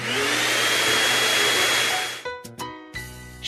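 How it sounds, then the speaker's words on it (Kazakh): A vacuum cleaner runs with a loud, steady broadband whoosh for about two seconds, then cuts off, followed by a few short separate tonal sounds. "Шаңсорғыш."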